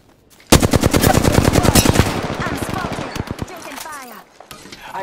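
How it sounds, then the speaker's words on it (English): Rapid automatic gunfire bursts out loudly in the Apex Legends video game, a dense stream of close shots that loosens into scattered single cracks and trails off, with game sound effects around it. "I am taking fire."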